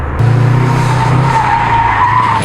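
A Subaru fitted with a Torq Locker drifts on a gravel or road surface, its tires skidding in a loud, sustained scrub with engine drone underneath, continuous for the whole stretch.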